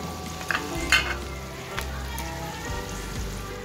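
Carrots tipped into a pan of frying potatoes and onions, bringing a soft steady sizzle with a few sharp clatters and stirring scrapes, fairly quiet and close.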